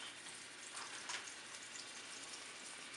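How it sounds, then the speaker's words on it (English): Meatballs frying in a pan, giving a continuous dense hiss of sizzling oil, soft and even throughout with faint crackles and no talking. "they're sizzling nice now"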